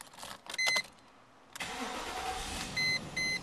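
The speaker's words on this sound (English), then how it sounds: "I'm going to fire the car up just to give you an idea of what it sounds like" A 1997 Mercedes-Benz S500 with about 82,000 miles cranks and fires up, its engine settling into a quiet idle, with a few electronic chime beeps before and after.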